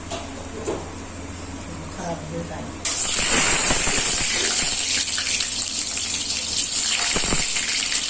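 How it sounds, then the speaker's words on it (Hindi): Oil poured into a hot wok to fry eggs sets off a sudden loud hiss and sizzle that holds steady after a quieter stretch, with a voice over it at first. "अब इसमें तेल डाल रहे हैं अंडा को फ्राई करने के लिए।"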